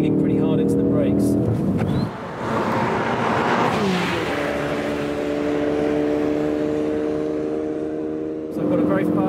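A Ford Focus RS engine drives hard around a race track, with steady engine tones that dip briefly in a gear change and then resume with strong harmonics. Someone talks over it.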